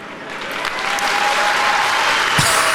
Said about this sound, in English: Applause break for that.